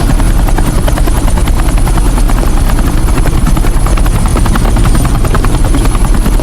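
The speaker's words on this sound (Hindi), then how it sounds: "ये हेलीकॉप्टर सीधे एयरपोर्ट के टारमैक पे लैंड होगा।" Helicopter coming in to land in an action film, its rotor thumping loud and continuous with a steady buzzing whine throughout.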